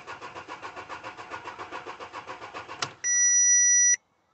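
A car engine cranks with a fast, even rhythm for nearly three seconds but never catches. It then stops abruptly and a steady electronic beep sounds for about a second. No one speaks.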